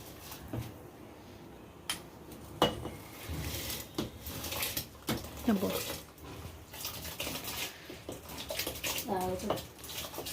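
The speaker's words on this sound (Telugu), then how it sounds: "ఇప్పుడు ఈ బియ్యం పోసేద్దాం" Rice is poured into boiling water for mutton dum biryani. Splashing and bubbling water comes close by with scattered clinks of vessels, and a voice speaks intermittently.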